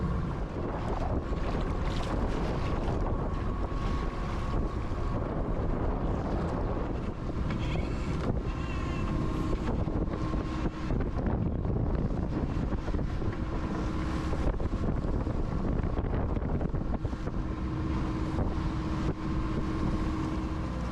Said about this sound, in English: So still motor sailing to windward, making good speed actually now